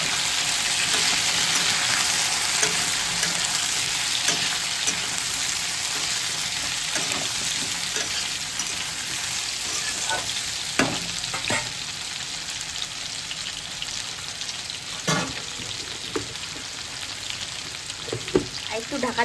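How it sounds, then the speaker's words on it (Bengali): Duck curry with green chili and onion frying in a pan, giving a steady close sizzle with scattered sharper crackles and stirring clicks. "একটু ঢাকা দিয়ে দিই, আর একটু ভাজা হোক।"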